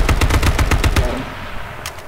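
Rapid automatic gunfire in the H1Z1 Battle Royale video game, a burst of about eight evenly spaced loud shots over roughly a second, then a short tail and a couple of fainter pops.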